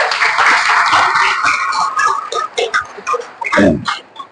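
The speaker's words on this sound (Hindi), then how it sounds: "एक बार बजा ताली जोर से इनके लिए।" A small indoor audience claps together, a loud burst of rapid hand claps that thins out into scattered, uneven claps before a final few strokes.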